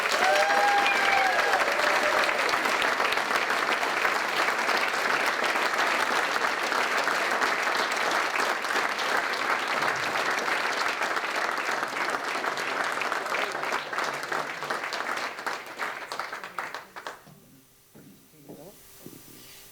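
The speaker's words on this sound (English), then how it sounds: "I would love if you give her a lovely warm round of applause today" Sustained warm applause from an audience at a university alumni awards ceremony, dense and steady for most of the stretch, then quickly tapering off into a few scattered claps near the end.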